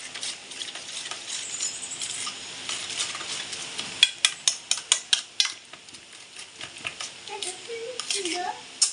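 Egg paratha filling being mixed in a bowl, a run of sharp rhythmic spoon clinks and scrapes against the bowl, fairly close, with a faint background sizzle and a brief voice in places.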